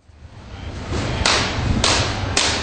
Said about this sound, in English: He uses his wand to provide sound, no horn or radio to carry, just banging to attract attention.